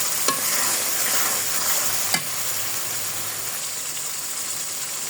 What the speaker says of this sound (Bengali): মশলা থেকে তেল উঠে আসছে, মশলাটা কষানো হয়ে গেছে।